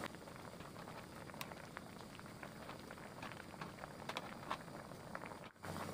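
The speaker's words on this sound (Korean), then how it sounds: "이렇게 해서 이제 펄펄 끓고 있는데" A pot of Korean tofu stew (dubu jjigae) with mushrooms and onion boils steadily, its soft, close bubbling and popping continuing quietly throughout, with a brief dip just before the end.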